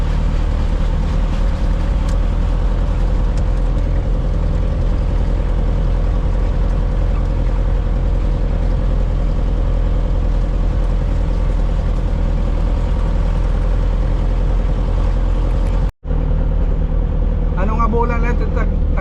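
A farm motor runs steadily at close range, a loud continuous engine drone with a steady low hum, cut by one brief dropout near the end.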